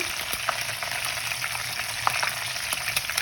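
Curry leaves and green chilies frying in hot oil in a pan, a steady dense sizzle with a few sharp crackles and pops, loud and close.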